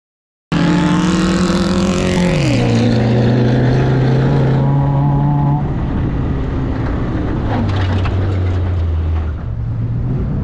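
A budget Geo Tracker drives off road, its engine droning loud and close, with rising revs and a gear change, then settling into a steady, labored pull.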